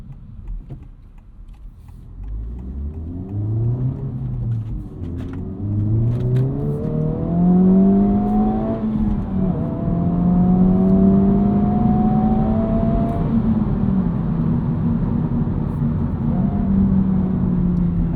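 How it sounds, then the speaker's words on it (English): Inside a 2025 Honda Civic Type R, synthetic engine sound piped into the cabin rises and falls in pitch as the car revs and pulls away through city streets, a smooth droning tone over low road rumble. "honestly quite dreadful piped in engine noise, which you can unplug"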